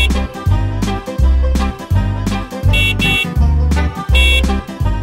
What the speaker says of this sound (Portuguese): A buzina do ônibus toca, toca, toca pela cidade.